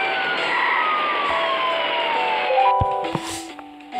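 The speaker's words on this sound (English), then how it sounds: "The ambulance is on its way to the Beck's house." A wailing ambulance siren in the video game Does Not Commute sweeps steadily downward in pitch, loud and close at first, then breaks into short electronic tones and blips near the end.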